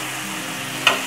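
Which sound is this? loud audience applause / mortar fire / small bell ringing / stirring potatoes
stirring potatoes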